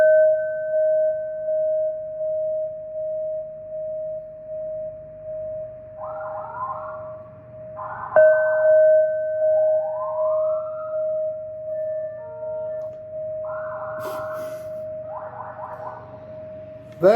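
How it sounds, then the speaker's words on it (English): Sirens wail outside in a loud steady tone with repeated rising and falling sweeps layered over it, continuing throughout without any talking. "They're the weirdest sirens I've ever heard out there"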